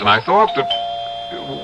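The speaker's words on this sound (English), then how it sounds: "that's my doorbell" A doorbell rings in an old-time radio drama, a steady electric tone sustained under and after a brief stretch of talk.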